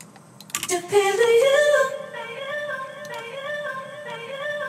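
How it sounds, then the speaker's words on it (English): A sung vocal note echoes and repeats, trailing off in soft delayed repeats over a sustained synth backing, building tension without any talking. "One way of doing that was adding the delay on the vocal just before the drop."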